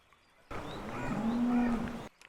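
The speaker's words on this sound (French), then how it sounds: "Il y a l'air d'avoir de belles vaches dedans," A cow moos on a mountain farm, a single long, loud, close bellow lasting about one and a half seconds, framed by quiet outdoor air.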